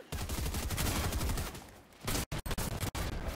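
Sustained automatic gunfire in the video game Fortnite, a loud dense burst lasting about two seconds, then several short, choppy bursts separated by brief gaps.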